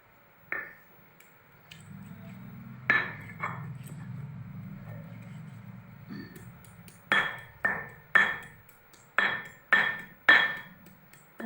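Radish pounded on a sil batta grinding stone for chutney, a series of sharp stone-on-stone knocks, sparse at first then coming in a quicker irregular rhythm, close and loud with a soft grinding rub between strikes.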